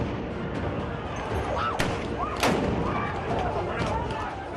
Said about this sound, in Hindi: वो इलाका धमाके की आवाज से गूंज रहा था। आंसू गैस के गोले छोड़े जा रहे थे।